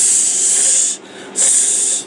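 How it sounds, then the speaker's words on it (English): Italian sausage sizzles in a pan on an induction cooker, a steady loud hiss that drops out briefly in the middle before resuming at full strength, with no talking. "There, it's frying."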